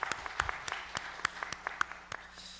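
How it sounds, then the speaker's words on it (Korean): A small church congregation claps in scattered, uneven bursts for a few seconds at the end of a Sunday worship service, sparse applause rather than a full crowd. "우리의 예배를 받으신 삼위 하나님께 영광의 박수를 돌려드립니다."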